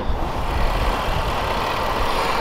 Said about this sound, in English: The heart of the Jaguar is a 3-liter supercharged V6 engine.